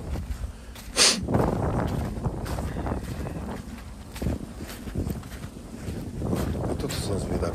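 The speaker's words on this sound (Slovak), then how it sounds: "Húči vietor." Wind howls and buffets a microphone outdoors on a hike near a cave, gusting roughly and unevenly in loud rumbling bursts, with a voice partly audible under the noise.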